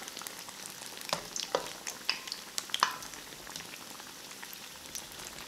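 Eggplant fritters (baiganee) fry in a pot of hot oil, with close, steady bubbling and fizzing and scattered sharp crackles and pops throughout, no voices.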